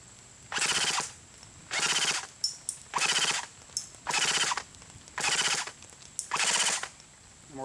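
ICS SIG 551 airsoft gun firing on full auto: six evenly spaced, loud, rapid bursts of mechanical rattling fire, each about half a second long, with short quiet gaps between them.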